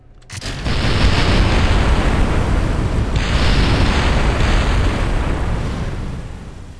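A rocket breaks apart under thrust in Kerbal Space Program, with a sudden loud roaring blast that swells quickly and holds as a dense, sustained rumble for several seconds before easing slightly near the end.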